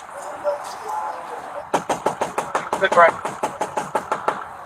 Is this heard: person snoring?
no